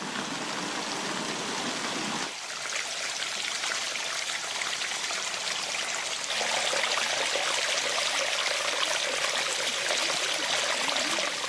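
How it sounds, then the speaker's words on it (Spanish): Water runs down the stone channels of the Alhambra water staircase, a continuous close trickling and gurgling flow that grows slightly fuller and brighter partway through. "uno está presenciando cómo corre el agua, la está oyendo"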